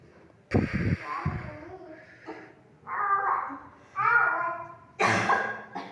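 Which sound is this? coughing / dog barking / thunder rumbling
coughing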